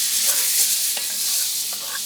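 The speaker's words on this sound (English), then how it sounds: "Just mix that around through the butter." A heaped teaspoon of garlic is stirred through melted butter in a pan for a smash burger, making a bright, steady sizzle with soft scraping strokes of a utensil, close and without any talking.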